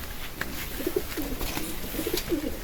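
Pigeons kept by a pigeon fancier coo in soft, low, throaty bursts, several calls spread across the moment, close by over a steady background hiss, with no talking.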